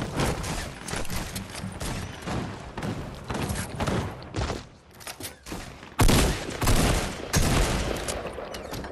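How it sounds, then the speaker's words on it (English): Shotgun fights in Fortnite crackle through the mix as repeated sharp blasts and bursts of gunfire, some close and loud, others more distant, arriving in irregular clusters with a heavier volley partway through. "You hear all those shotgun fights?"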